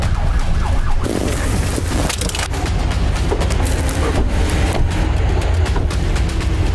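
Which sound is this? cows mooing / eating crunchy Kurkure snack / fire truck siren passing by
fire truck siren passing by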